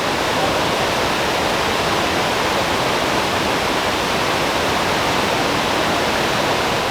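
Jungle waterfalls in Palenque, Chiapas, Mexico pour with a dense, steady roar that fills the whole stretch without pause, loud and close, with no voices over it.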